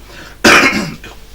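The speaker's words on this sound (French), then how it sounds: "Excusez-moi, j'ai la toux," A single sharp, harsh cough from a man with a cold bursts out close and loud, followed by a softer short exhale in an otherwise quiet room.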